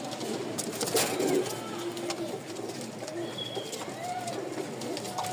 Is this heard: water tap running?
no